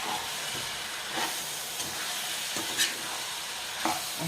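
Whole spices tempering in hot oil in a pan for a coconut milk chicken curry, giving a steady broad sizzle with a few brief louder crackles and spits throughout, close and alone without talk.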